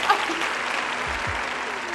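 An audience claps in a continuous wash of applause, steady and fairly loud for the whole stretch, with a brief voice underneath.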